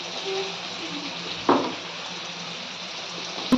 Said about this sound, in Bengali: তেলটা গরম করে নিয়েছি আর যে মরিচটা আর রসুনটা যে বেটে রেখেছিলাম এটা এখন তেলের মধ্যে দিয়ে দিচ্ছি